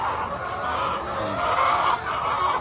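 Chickens cluck on a small poultry farm, with many birds close by making a steady, loud, overlapping chatter of clucks.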